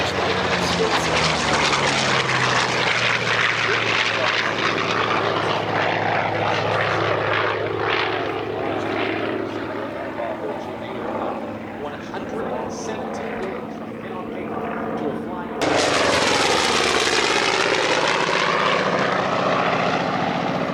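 A Douglas Skyraider propeller aircraft flies past at the Oregon International Airshow in McMinnville, its loud engine roar swelling and fading with a shifting pitch, under a commentator's voice.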